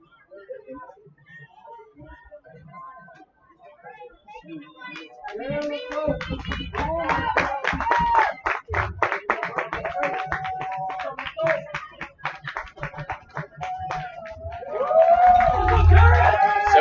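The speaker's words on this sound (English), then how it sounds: "The fans are getting really loud." A large crowd at a boys' varsity lacrosse game claps and cheers with a steady roar that grows louder toward the end, with voices mixed into the noise.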